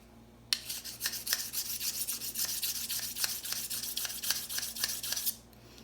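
A sharpening stone rubbed up and down along a knife blade's wavy grind, making steady rasping strokes in a quick, even rhythm, close and fairly loud, with a low background hum and no talking.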